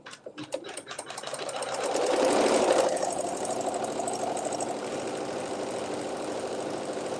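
A sewing machine does decorative stitching on a quilt, starting with a few separate stitch bursts and then settling into a continuous, fast mechanical whir that runs steadily at close range.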